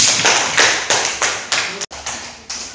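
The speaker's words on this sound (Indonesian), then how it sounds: "Tepuk tangan." Applause in an Indonesian classroom after a student group presents, with repeated bursts of clapping rising and falling in short waves, loud and close, with a brief gap near the end.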